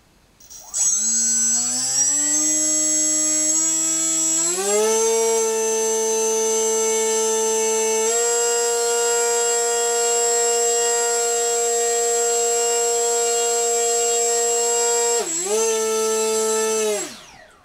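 A brushless RC motor with a propeller spins up and holds a steady, high whining tone at half throttle for a long stretch, with one brief dip near the end, heard close and alone.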